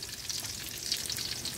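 Garlic sautéing in a pan for pork adobo, a steady close sizzle and crackle of frying oil with no pauses and no voices.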